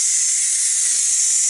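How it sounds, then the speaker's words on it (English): The pressure release valve of a Ninja Foodi Deluxe vents the last of its steam as a steady, close, high-pitched hiss lasting about a second and a half. "just reach over here and turn that to the right, and there's what little bit of steam is left in there"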